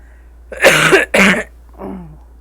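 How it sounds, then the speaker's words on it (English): Two harsh coughs close together from a person with a cold, then a softer throat-clearing cough, loud and close with no talking. "I apologize for the coughing"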